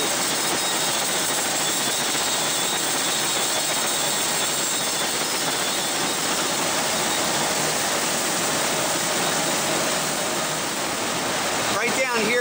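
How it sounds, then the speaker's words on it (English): Water rushes continuously through machinery at a coffee processing plant in Costa Rica where coffee cherries are separated, making a loud, broadband roar that holds steady for the whole stretch. "there's a lot of water being used"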